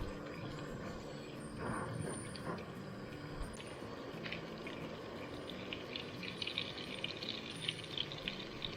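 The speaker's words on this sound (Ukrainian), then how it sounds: "О, вже шкварчить." Trout frying in olive oil outdoors: a steady, close sizzle and crackle of hot oil with occasional louder pops, no one speaking.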